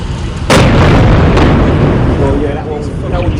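Grad missiles and shells hit a port area in wartime, giving a loud booming blast followed by rolling rumble and a second impact, with a voice speaking over the noise.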